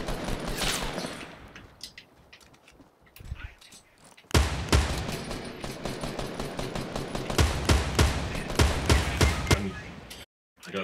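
Shooter video game gunfire: a quieter stretch of scattered shots, then a sudden loud burst of rapid automatic fire with sharp repeated cracks, with a player talking over it.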